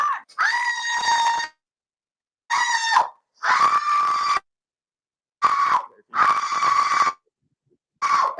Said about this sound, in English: This lady's shrieking makes my singing sound like almost tolerable.